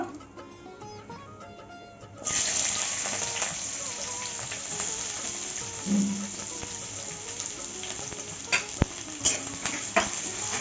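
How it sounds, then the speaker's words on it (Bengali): Chopped onions fry in hot oil for rui fish chocchori, a steady close sizzle that jumps up when they go into the pan and keeps on, with faint stirring clinks, no talk. "পেঁয়াজটাকে দিয়ে একটু ভেজে নেবো"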